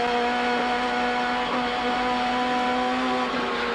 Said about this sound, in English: You can hear the Commodore to his right-hand side.